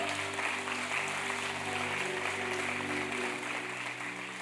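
Steady applause from a church congregation fills the whole stretch, continuous and even, with a low sustained musical hum underneath.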